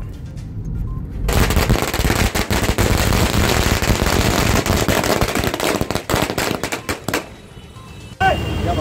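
A long, dense string of firecrackers crackles and pops in rapid bursts for several seconds at a road junction during a political celebration, loud and close, then stops abruptly.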